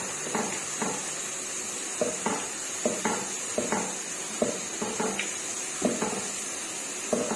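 Garlic sizzles in a pan with golden onions for Pakistani-style kadhi pakora, a steady hiss of frying under repeated close stirring clinks and scrapes of a utensil against the pan.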